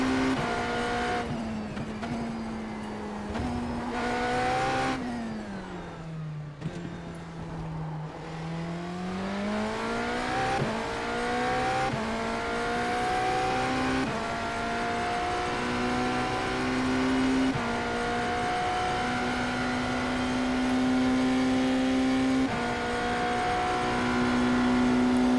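An IMSA GTE race car at Road Atlanta in the iRacing sim drones close and steady, its engine pitch dipping and rising through gear changes and weaving to warm the tires, alone without talk.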